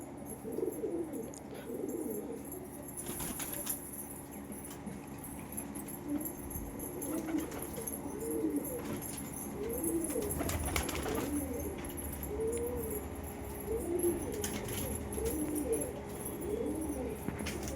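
Pigeons coo softly and repeatedly in a loft, their low throaty calls rising and falling among faint rustles and occasional clinks, with quiet human voices briefly in the background.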